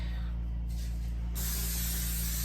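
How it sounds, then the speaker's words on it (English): A steady aerosol cooking spray hisses continuously onto a cookie sheet, growing louder partway through as the nozzle is held down. "now we are going to spray our cookie sheet"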